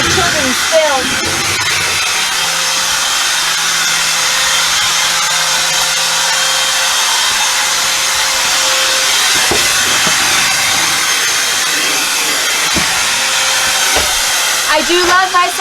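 A strong vacuum cleaner roars steadily and loudly while cleaning inside a travel trailer, a broad continuous hiss with brief bumps and shifts as the nozzle moves, with faint talking at moments.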